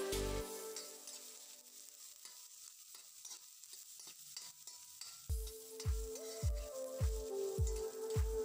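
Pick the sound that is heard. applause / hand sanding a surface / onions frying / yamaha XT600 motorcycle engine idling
onions frying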